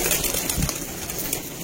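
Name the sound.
Lal Pari pigeons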